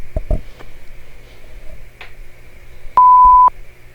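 A single electronic beep from an interval workout timer marks the change between work and rest in an off-ice, low-impact training class. The tone rings steady for about half a second, clear over a quiet room.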